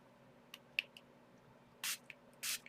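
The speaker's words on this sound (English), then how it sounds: "I'm going to go ahead and spray this" Brusho colour sprayed into a cup from a pump spray bottle: several short, quiet spritzes, then two longer hissing bursts, close and otherwise near silent.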